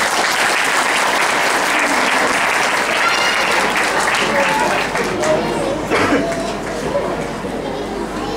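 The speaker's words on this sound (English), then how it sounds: "Give them a round of applause." A crowd at a Chinese New Year celebration gives students a loud, continuous round of applause, dense clapping with faint chatter mixed in, easing slightly toward the end.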